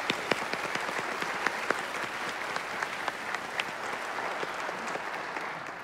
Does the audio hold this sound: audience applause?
yes